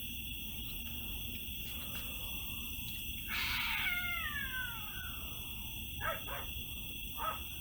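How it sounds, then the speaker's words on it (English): A cat lets out a loud, strange, warbling meow-like cry in the middle of a steady background hum, followed by a couple of shorter faint calls. "That was a crazy cat sound."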